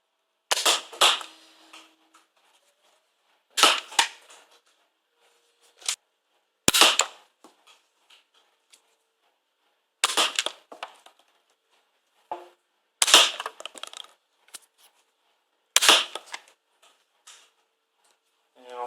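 Nerf Star Lord Quad Blaster firing darts in six sharp, separate bursts spaced a few seconds apart, each a loud snapping pop with a short rattle after it, with quieter handling clicks in between.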